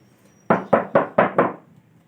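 Five quick knocks on a stiff, half-millimetre carbon fiber 3D printer bed sheet for an Ender 3 Pro, evenly spaced and crisp, each with a short hollow ring, close and clear.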